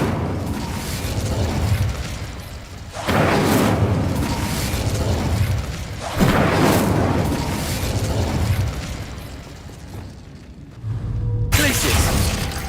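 Incendio fire spell being cast in the video game Hogwarts Legacy, a series of loud whooshing blasts and bursts at regular intervals over a continuous roaring rumble.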